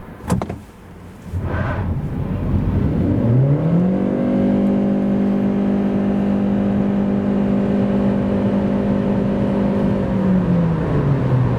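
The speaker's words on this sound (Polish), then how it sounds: "Tak wygląda przyspieszanie samochodu od 0 do setki." A 2026 Chery Tiggo 4 Hybrid SUV's 1.5-litre engine revs up steadily from a standstill to 100 km/h in sport mode, its pitch climbing then holding a strong, sustained drone for several seconds before easing off.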